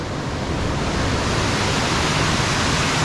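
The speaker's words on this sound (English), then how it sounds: "the waterfall is beautiful" Steady, dense rushing water roars without pause, a broad wash of noise from a waterfall in Oregon heard from nearby, right off the edge of a hotel.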